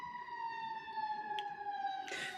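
A wailing emergency siren holds a steady tone in the distance, faint beneath background noise, with a brief burst of hiss near the end.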